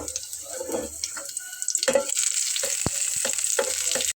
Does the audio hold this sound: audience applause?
no